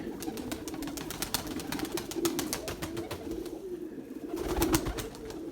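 Pigeons cooing in a loft in İzmir, low rolling coos repeating in a steady pulse, close and clear, with faint background noise.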